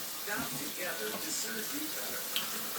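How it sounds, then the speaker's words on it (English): Water from a kitchen tap running steadily as a spoon is rinsed under it, a close continuous hiss with a light clink near the end and a voice talking over it. "Let me wash this spoon off."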